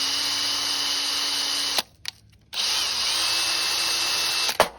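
A power tool spinning at higher speed to clean a Honda Monkey 125 rear brake piston, a steady high whine close up that cuts out briefly, then spins back up and runs on before a short clatter.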